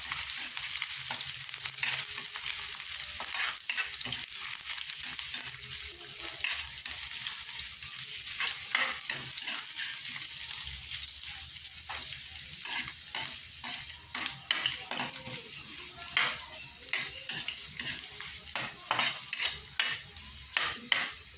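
Ginger sautéing in a pan, a steady close sizzle broken by repeated scraping stirs of a utensil against the pan, growing busier toward the end.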